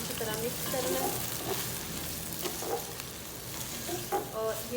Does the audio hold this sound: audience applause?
no